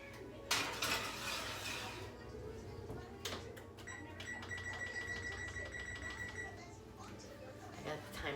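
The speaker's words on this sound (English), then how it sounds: "Now we're gonna pop it in the oven." A baking dish of baked mac and cheese going into a home oven with a clatter of cookware, followed by a run of steady electronic beeps from the oven controls.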